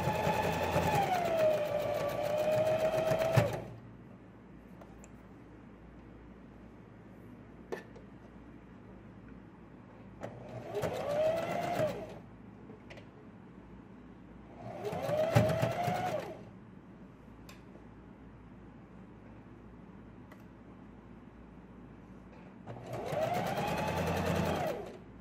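A sewing machine stitches a zigzag seam on a girl's dress in four loud bursts of whirring, separated by quiet pauses with faint clicks.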